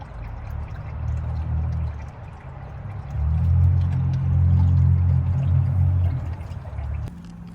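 Coolant pours and trickles steadily from a Mazda Miata radiator hose as it drains, a continuous low gushing that swells louder midway and carries on without talk.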